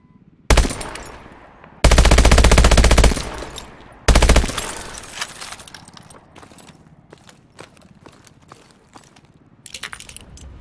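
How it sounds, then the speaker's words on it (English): Loud bursts of rapid automatic gunfire come from a futuristic military shooter, Call of Duty: Advanced Warfare, in a training course. Three long sustained volleys are followed by scattered single shots and clatter. "Shoot through walls to hit those targets."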